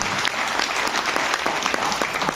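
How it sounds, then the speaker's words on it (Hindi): A dense, loud round of applause from an audience at a cryptocurrency talk, with sustained even clapping filling the room for a couple of seconds. "एक बार जोरदार तालियां क्रिप्टो करेंसीज के लिए"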